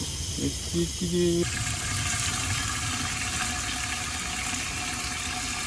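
Water from a leaking garden hose pours steadily into a self-wicking planter bucket, a constant rushing hiss that carries on to the end after a brief voice at the start.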